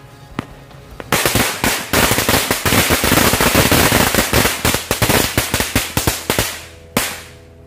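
Small lighter-lit firecrackers (petasan korek) go off in a rapid string of sharp, loud bangs, dozens of cracks crowding together for several seconds before trailing into a few scattered pops, close by with no talking.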